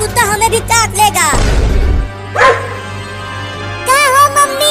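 A cartoon dog barks in a rapid burst of yaps, then again after a crash and a pause, loud and close, with a voice and background music.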